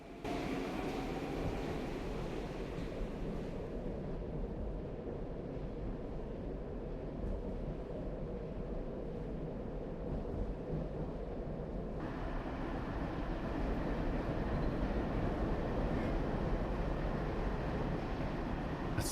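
A metro train runs steadily in the Metro Simulator video game, a continuous loud rumble of motors and wheels with no break, its hiss growing a little brighter midway through.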